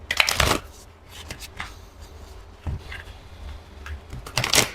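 A deck of goddess oracle cards being shuffled close up, a few quick riffling bursts separated by short pauses, crisp and fairly loud with no talking.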